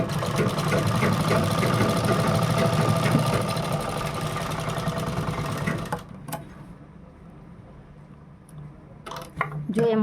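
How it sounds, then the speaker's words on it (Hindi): A sewing machine runs steadily while stitching a blouse, a loud continuous mechanical whir for about six seconds, then stops, leaving quieter handling sounds and a few clicks. "इसको हम सिलाई लगा देंगे"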